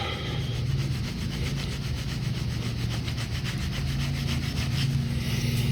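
Polish is rubbed onto a rusty tool with a cloth to remove oxidation, producing a steady, rhythmic back-and-forth scrubbing and rubbing close up, continuous throughout with no speech.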